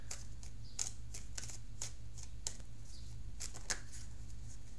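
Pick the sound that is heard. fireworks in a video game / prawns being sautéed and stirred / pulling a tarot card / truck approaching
pulling a tarot card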